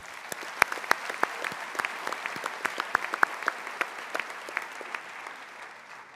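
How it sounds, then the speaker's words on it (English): Convocation graduates at George Brown College applaud themselves, a sparse, scattered round of individual claps in a large hall, fairly quiet and uneven, with no speech over it. "Please give yourselves a round of applause."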